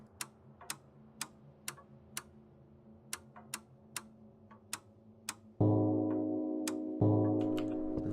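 A clock ticks steadily in a video game, sharp regular clicks about twice per second, joined near the end by a sustained low droning tone that swells in two steps, with no talk.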